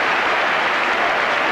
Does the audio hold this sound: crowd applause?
yes